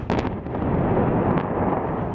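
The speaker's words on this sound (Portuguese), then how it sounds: "Pouco depois, outra forte explosão." A heavy, rumbling blast from a rocket striking a residential area in eastern Gaza opens with a sharp burst and then rolls on as a dense, sustained roar with no voices.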